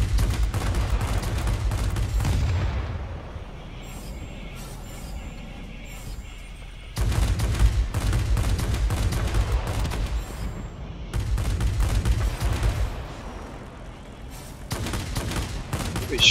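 Aircraft guns firing in World of Warplanes from a Tier IX German Focke Wulf Ta 183 Huckebein jet, loud rapid bursts lasting several seconds each, broken by short pauses, with engine drone underneath.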